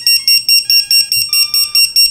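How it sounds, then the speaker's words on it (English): A shrill Matek lost model alarm buzzer for iNav beeps rapidly in a loud, evenly spaced series of about ten piercing tones. "we've got this beeper connected up"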